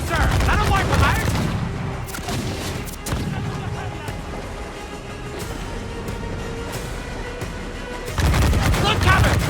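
Ship cannon fire during an Assassin's Creed 4 naval battle, with heavy booming volleys at the start and again at the end, separated by a quieter stretch of rumbling battle noise.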